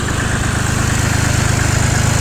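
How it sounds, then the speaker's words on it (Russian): A Hinomoto C174 four-wheel-drive mini tractor engine runs steadily at idle, a loud, close, even low-pitched chugging throb that holds constant throughout without any talking. "Работает трактор ровно, я думаю, это слышно."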